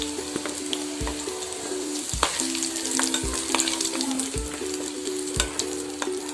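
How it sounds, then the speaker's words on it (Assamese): Potatoes frying in hot oil, a steady close crackling sizzle that runs throughout, broken by regular soft thumps and scraping stirs. "মোৰ তেল গৰম হৈ গ'ল। আলুকেইটা ফ্ৰাই কৰি লওঁ।"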